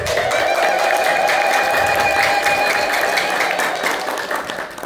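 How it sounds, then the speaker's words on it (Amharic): A church congregation at a Hosanna (Palm Sunday) feast ululates and claps in praise. The high, trilling voices and steady clapping form a loud, dense, sustained wall of sound that runs the whole time. "እስቲ ሁላችሁም ለእግዚአብሔር እልልታ አቅርቡ ከጭብጨባ ጋር።"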